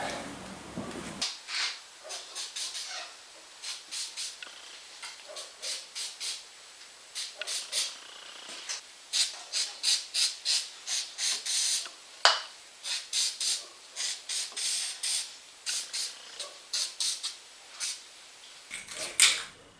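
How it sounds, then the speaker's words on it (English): Penetrating lubricant sprayed in short repeated hissing bursts onto bolts underneath a high-mileage rusty car in chilly weather, a rhythmic series of brief spritzes close to the microphone. "Got all the bolts from underneath sprayed up with some honey goo"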